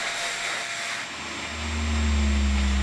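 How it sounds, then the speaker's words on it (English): A shop vacuum starts up and runs with a steady, rising motor hum and airy rush, moderately loud and alone. "I got a vacuum, a shop vacuum."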